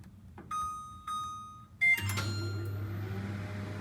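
An LG microwave oven started on its quick timer: a few beeps from the control panel, then a steady low hum of the oven running close by, with no talking.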